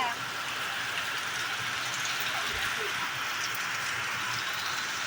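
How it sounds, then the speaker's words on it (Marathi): Steady rain patters and hisses outside at a moderate level, a continuous wash of drops with a faint low thud partway through. "बाहेर खूप पाऊस आहे"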